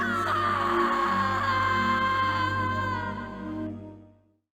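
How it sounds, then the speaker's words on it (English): A woman named Stephanie screams in the video game Harvester, one long sustained high-pitched cry that holds steady, then trails off and cuts out near the end. "We hear Stephanie scream again."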